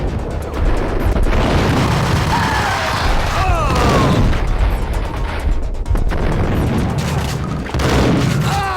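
Gunfire and heavy impacts from the Max Payne video game, a continuous barrage of loud booming shots and crashes with whistling streaks, lasting the whole stretch with no pauses.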